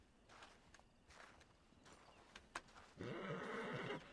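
Horse whinny and clip-clopping hooves in the video game Red Dead Redemption 2, with soft footfalls and a loud, raspy neigh toward the end, fairly quiet overall.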